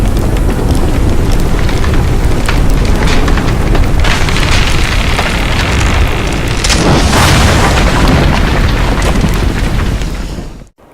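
Imitation of a building in flames made with everyday objects: a loud, continuous roaring rumble full of crackles and sharp snaps, sustained for several seconds before cutting off abruptly, with no speech.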